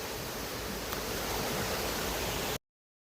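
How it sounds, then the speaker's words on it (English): A river flowing beside an old estate's stone cooling chamber near Dublin, Ireland, a steady broadband rush of water that stays constant and fairly close, then cuts off abruptly. "it's right beside the river"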